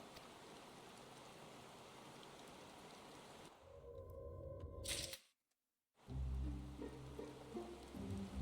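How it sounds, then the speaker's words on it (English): Steady rain falls in the game Final Fantasy XIV, a constant hiss that drops out briefly into silence before returning with low rumbling underneath. "Amidst the sound of falling rain,"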